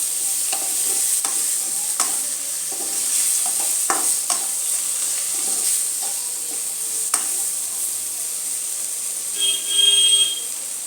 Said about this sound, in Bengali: কাশ্মীরি লঙ্কা গুঁড়ো সাথে আমি টমেটো নিয়েছিলাম যে টমেটোটাও দিয়ে দিলাম ভালো মতো মিশিয়ে নেবো